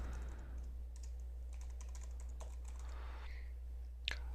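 Quick, light typing on a computer keyboard, a run of soft close key clicks in an uneven rhythm over a steady low hum, ending with one sharper tap.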